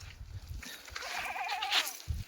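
Pregnant Kathiawari goats bleating at a goat sale, a wavering, close bleat rising in the middle of the clip over rustling and low rumbling background noise, with no talking.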